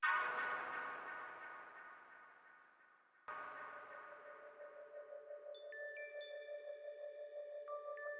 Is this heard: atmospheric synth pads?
yes